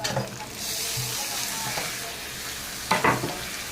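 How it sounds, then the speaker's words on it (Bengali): Chicken marinated with ginger, garlic and green chilli drops into a hot frying pan, sizzling and hissing up close with stirring scrapes and a sharper burst of spatter near the end. "এখন এর ভিতরে এখন দিয়ে দেবো চিকেনটা"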